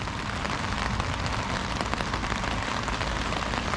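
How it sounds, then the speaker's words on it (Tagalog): Heavy rain pouring down at a lake during a fishing trip, a dense, steady hiss of drops beating on surfaces, loud and unbroken for the whole stretch with no voices. "At lakas ng ulan."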